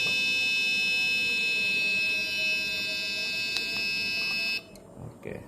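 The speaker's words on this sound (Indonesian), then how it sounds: "untuk reset dari alarm Bilge yang kami buat ini, kita pencet 2 kali, buzzer mati dulu" A shrill electronic bilge alarm buzzer on a ship sounds continuously at a steady pitch, then cuts off abruptly near the end, leaving only quiet background noise.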